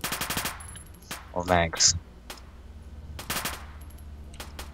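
Automatic machine gun fire in ARMA 2 rattles out in two short rapid bursts at the start and near the end, with a brief voice speaking and other game sounds between them.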